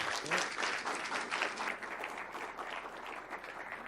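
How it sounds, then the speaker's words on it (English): Warm round of applause from an evening audience welcoming speakers at a game-development talk, steady and even at first, then thinning slightly toward the end. "please, everybody, give our speakers this evening a warm round of applause and welcome"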